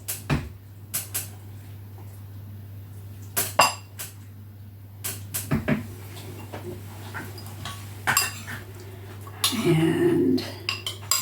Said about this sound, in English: Now I can spoon up some lovely